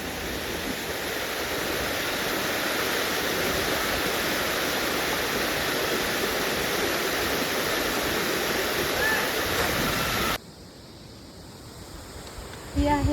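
Dudhsagar waterfall seen from the top, a steady loud roar of rushing water that fills the scene for about ten seconds. It then drops to a softer, more distant wash of flowing water with some faint background sound.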